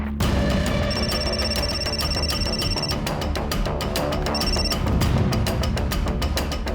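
A telephone rings loudly and continuously with a repeating electronic bell tone, close by, while someone tries to reach a relative by phone. No voices are heard over it.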